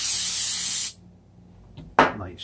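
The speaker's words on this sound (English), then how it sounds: "Little coconut spray." A short burst of coconut oil cooking spray coats a stovetop pan, a steady close hiss lasting under a second, followed by quiet and a brief clatter.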